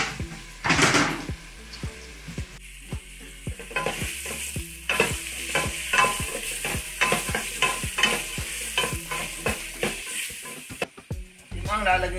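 Onions sautéing in a pot for chicken tinola, with a wooden spoon scraping and stirring in a steady rhythm over a constant close sizzle and a brief voice near the start.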